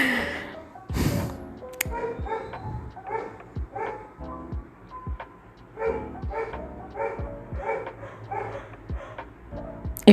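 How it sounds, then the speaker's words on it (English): Two dogs, a neighbor's dog and a street stray, trade barks back and forth, sharp irregular bursts with short pauses, one sounding a bit farther off than the other. "my neighbor's dog and the stray dog on the street are having like a bark off match"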